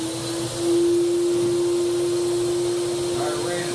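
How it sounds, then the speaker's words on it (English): An HVLP paint sprayer turbine, set up for spraying shellac primer, runs with a steady, loud, close vacuum-like whine and hum that holds constant and swells slightly after the first half second. "let me fire up the turbine."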